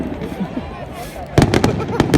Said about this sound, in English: Boom goes dynamite. Firework.